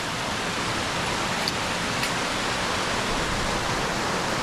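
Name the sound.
water cascades at Haweswater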